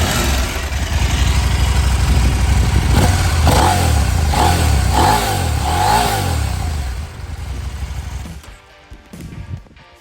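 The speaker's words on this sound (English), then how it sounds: "So that's the standard exhaust" Husqvarna Norden 901 adventure motorcycle running on its standard exhaust, a loud, close engine holding a steady rumble with several quick throttle blips in the middle before it cuts off near the end.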